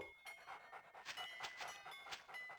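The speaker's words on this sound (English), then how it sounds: "The Rottweiler dogs." Rottweiler dogs panting in the Dreamcast game Shadow Man, quick rhythmic breathy pants repeating steadily, fairly quiet and close.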